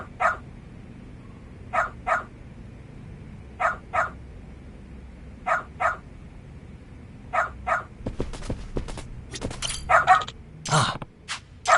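A dog in the Lost Judgment video game barks in spaced pairs of sharp yips, moderately close, followed by a burst of rapid, clattering barks and scuffling noise near the end.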